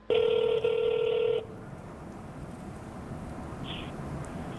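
A telephone ring tone sounds loud and steady for about a second and a half on a call to a police chief, then cuts off into a quiet line hiss.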